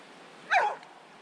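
A dog in Siskiyou Forks woodland lets out one short, sharp bark, close by and clear against quiet background hiss, with no talking.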